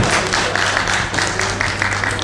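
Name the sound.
audience applause welcoming the speaker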